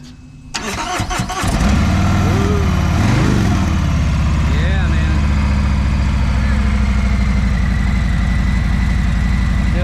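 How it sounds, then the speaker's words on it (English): A stock 2022 Harley-Davidson Road Glide with a Milwaukee 8 engine and stock exhaust cranks over after a brief quiet, then settles into a loud, steady, low rumbling idle that continues close by to the end. "I know it's just got stock exhaust and it's just stock Milwaukee 8, but let's hear it run."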